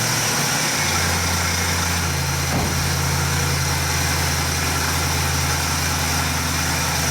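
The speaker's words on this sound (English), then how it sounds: "All right, so that's a cold start" A Ford van's 5.4 liter engine idles loudly and steadily close by just after a cold start, a constant droning hum with no talk over it.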